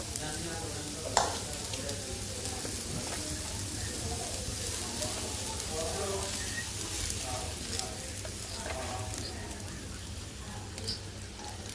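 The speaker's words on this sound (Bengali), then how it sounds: "তো পেঁয়াজটা ভাজা হয়ে গেছে পুরোপুরি ভাজা হয়নি" Onions fry in oil for a prawn curry, a steady close sizzle running throughout with occasional stirring clicks and scrapes, faint and even in level.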